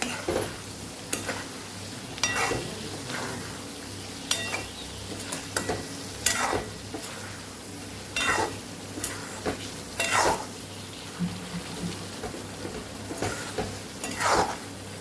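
A spoon scrapes and stirs spices in a frying pan for an eggplant dish in repeated strokes, over a soft continuous sizzle of oil.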